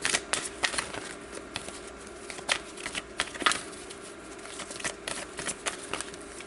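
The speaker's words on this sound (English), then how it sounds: "having a hard time shuffling the romance angels for you guys" A deck of oracle cards is riffled and shuffled by hand, close and quiet, producing a steady run of papery flicks and soft snaps with brief pauses, with no talking.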